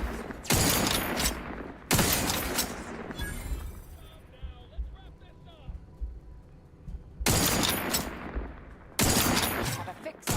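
Bursts of automatic gunfire in The Outer Worlds 2, loud dense volleys in short clusters separated by a quieter gap with distant mechanical noise and faint voice.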